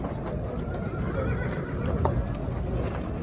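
Horses at a horse market in Jalal-Abad clip-clop steadily on the ground, with whinnies and a busy crowd murmuring around them.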